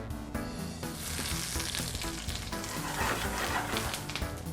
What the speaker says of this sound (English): In a heated saute pan, we're going to coat the bottom with some extra virgin olive oil and crisp up the eggplant